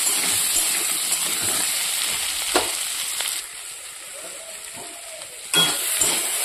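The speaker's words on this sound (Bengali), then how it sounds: "এবার আমি বসিয়ে দিয়েছি আলুটা। তো আলুটাকে হালকা করে ভেজে নেব" Potatoes frying in a pan, a steady close sizzle with a few scrapes and clinks of stirring, quieter for a while in the middle before swelling again toward the end.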